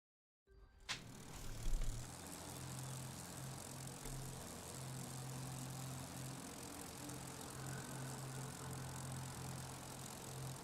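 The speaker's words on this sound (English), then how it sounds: "Engine idle? Check." A car engine idles in The Crew 2, a steady low hum with a brief louder rev near the start, then settling into an even, moderately quiet drone.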